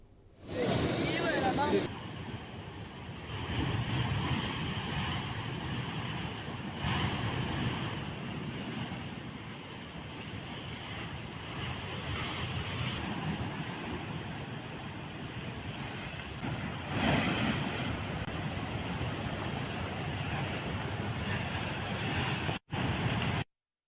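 Sea surf pounds a shore at Uppada in Kakinada during Cyclone Fengal, a continuous roar of breaking waves mixed with buffeting wind noise, loud and steady with surging swells.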